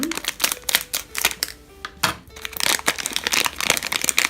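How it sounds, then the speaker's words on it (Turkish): A Trash Pack toy package being opened, with loud crinkling and crackling of plastic wrapping in quick bursts close by, a brief pause partway through and then more rustling. "Diğer paketimizi de açalım."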